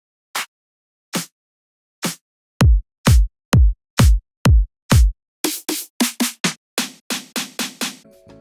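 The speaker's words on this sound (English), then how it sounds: "Now we need a clap or a snare for the beat." Sharp electronic hits repeat in a steady beat. Sparse snappy claps give way to heavier, booming snare strikes, then quicker, brighter claps near the end.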